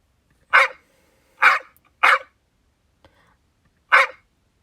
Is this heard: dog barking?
yes